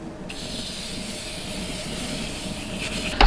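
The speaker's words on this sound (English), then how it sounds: "Let's spray this all down." A makeup setting spray hisses in a long, steady continuous spray lasting several seconds, close and fairly loud, with no talking.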